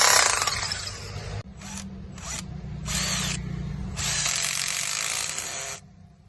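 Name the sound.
power tool driving big screws into concrete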